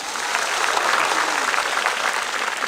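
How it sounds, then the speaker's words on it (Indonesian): A seated audience at an Indonesian religious talk breaks into steady, dense applause, many hands clapping together at an even level the whole way through. "Tepuk tangan dong"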